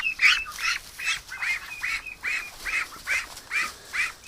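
A small duck quacking repeatedly in a steady rhythm, about ten close, fairly loud nasal quacks with short gaps between them, no talking.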